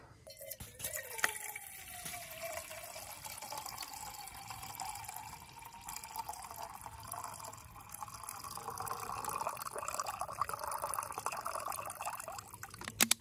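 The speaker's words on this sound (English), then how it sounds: "And we gotta add some water." Water pours steadily into a pot from a bushcraft grill set outdoors, a sustained splashing stream whose pitch rises slightly as it fills, with a few clinks at the start and end.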